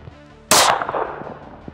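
A single sharp, loud gunshot from a Para Ordnance 1911 pistol firing .45 ACP Powerball ammunition cracks nearby, then rings out and decays over about a second.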